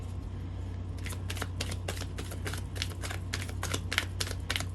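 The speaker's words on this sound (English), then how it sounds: "we're just going to get a couple of oracle cards to start" Oracle cards are shuffled up close, with a quick run of soft riffling flicks and slaps over a low background hum.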